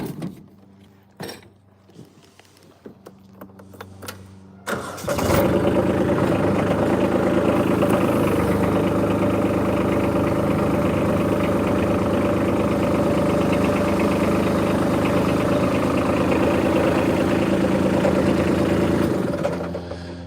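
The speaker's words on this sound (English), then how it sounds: "this tractor, I bought it in 2015 and it's got, doesn't even have 300 hours on it, but it sure is nice to have when I need it. It's a nice Kubota" A nearly new orange Kubota tractor engine idles steadily and loudly close by for about fifteen seconds, a constant low rumble after a few seconds of scattered knocks and handling noises at the start.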